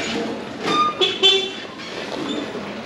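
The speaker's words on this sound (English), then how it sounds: "but of course still honking" Vehicle horns in a Hanoi alley give several short toots in quick succession, loud and close, with traffic hum underneath.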